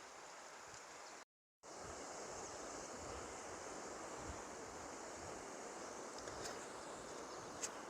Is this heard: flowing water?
yes